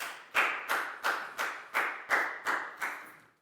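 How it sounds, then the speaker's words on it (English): Eight evenly spaced claps ring out alone in a classroom, a slow, deliberate rhythm of sharp, fairly close hand strikes as pupils applaud a classmate. "High five and a big round of applause for Nadia,"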